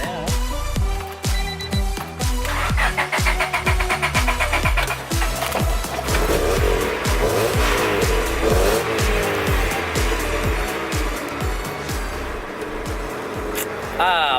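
Loud rhythmic engine noise with sharp mechanical clatter and squealing, a busy, harsh running sound close by.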